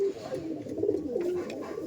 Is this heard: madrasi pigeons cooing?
yes